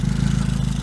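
A 1971 Reliant 750 three-wheeler's 750cc engine burbles through its exhaust at idle, a close, even, throbbing low note with quick regular pulses, heard alone.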